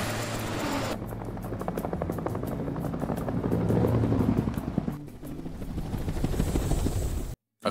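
A helicopter herding cattle has a steady rotor chop that thumps rapidly and loudly nearby, with a whining engine underneath and no voices.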